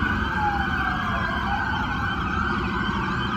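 Several wailing sirens overlap continuously with traffic rumble, loud and close, their pitches sweeping up and down.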